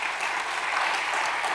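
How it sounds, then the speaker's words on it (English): A lecture audience gives a round of applause honoring the UDM's twentieth year, a dense, even wash of clapping from many hands that stays level from start to finish. "I think this deserves a round of applause."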